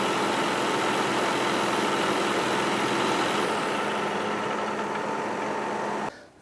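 A Cursor common rail diesel engine runs steadily at idle during an injector return test, a loud, even rumble with a constant low hum, cutting off abruptly near the end.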